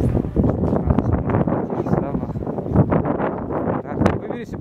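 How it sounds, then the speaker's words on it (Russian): Strong outdoor wind gusts across the microphone on a cold day, a rough, fluctuating rumble that stays steady and loud, with a voice talking over it. "Сильный ветер, конечно."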